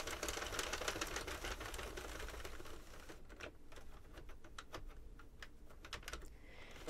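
A circular knitting machine carriage works stitches back and forth while shaping a raglan-style sweater, giving a dense run of rapid mechanical clicks and clatter that drops off slightly midway, then continues with sharper separate clacks.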